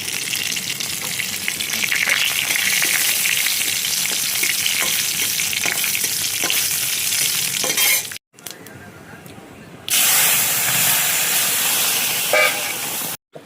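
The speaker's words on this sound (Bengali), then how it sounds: "এখানে তেল গরম হয়ে গেছে, ফোড়ন দিচ্ছি।" Panch phoron spices, dried red chillies and bay leaves crackle and sizzle loudly in hot oil in a pan, a dense continuous frying hiss broken by a short pause before it resumes.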